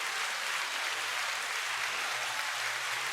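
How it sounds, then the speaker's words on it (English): Canned applause from a push-button sound effect, a steady hiss of clapping and cheering held at an even level throughout, with no talk over it. "I have an applause button. I'm going to do it."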